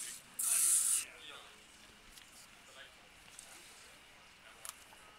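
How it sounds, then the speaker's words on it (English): A short, loud aerosol hiss of bug spray lasts under a second at a baseball game, followed by quiet ambient crowd noise and faint distant knocks. "Hey, Carter, you want to pass me the bug spray?"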